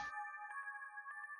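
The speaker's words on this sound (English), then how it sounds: "The ringtone feels ominous." Phone ringtone in the horror video game Summer Nightmare: a steady electronic tone with pulsing, repeating beeps, loud and alone after a brief noisy onset.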